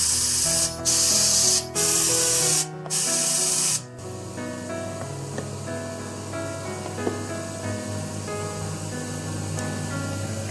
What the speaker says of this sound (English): Blowing compressed air in the forward direction can help clean the vacuum holes more effectively